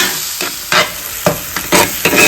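Tomatoes and onions frying in a pan while being stirred, a loud close sizzle broken by repeated scraping sweeps of the spoon, four or five strokes in quick succession with no talking.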